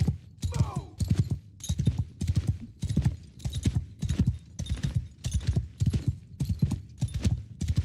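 Cavalry horses' hooves in the fantasy strategy game Old Realms: a rhythmic, steady clip-clop of galloping, with a brief whinny early on.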